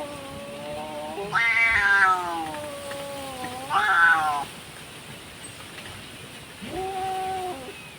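A domestic cat meows three times in close succession, with long, drawn-out, wailing cries separated by brief pauses against a quiet indoor background.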